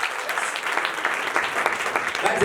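Congregation at a church service breaking into loud, sustained applause, dense clapping from many hands filling the room, with a voice faintly heard beneath it.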